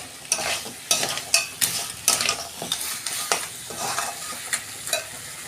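Sea crab sautéed in a pan, firm spoon or spatula strokes scraping and clacking in an irregular rhythm over a constant frying sizzle, close up with no talking.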